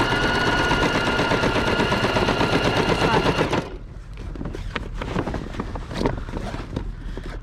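A Singer heavy duty sewing machine stitches along the edge of a sail in a loud, dense, continuous mechanical rattle that runs for about three and a half seconds, then stops abruptly, leaving quieter handling clatter and knocks.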